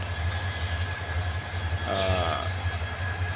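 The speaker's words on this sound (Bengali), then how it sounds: "ইঞ্জিন পরিচালিত করে এবং রেলগাড়ি তাকে বহন করে টেনে নিয়ে যায়" Train rumbling at Kamalapur railway station in Dhaka, a steady low drone with a brief higher squeal or screech in the middle, heard in open station ambience.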